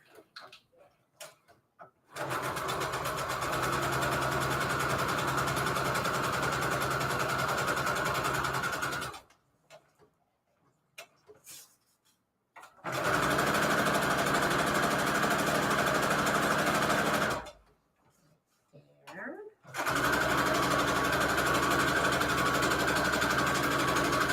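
A sewing machine stitching a paper pocket for a Christmas junk journal, three long bursts of steady rapid whirring and ticking, separated by quiet pauses with small handling noises.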